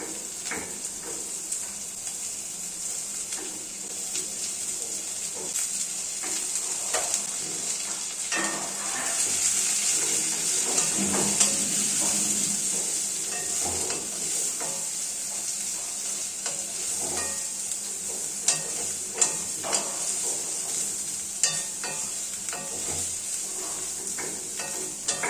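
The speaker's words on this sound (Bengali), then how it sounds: "কুচি করে কাটা গাজর গরম তেলে দিয়ে দেব।" Chopped carrots sizzle in hot oil for fried rice, a steady bright frying hiss with scattered scrapes and taps of a spatula stirring, close and continuous.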